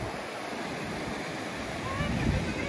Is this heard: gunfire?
no